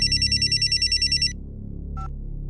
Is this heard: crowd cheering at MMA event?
no